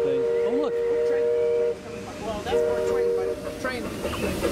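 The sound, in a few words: train passing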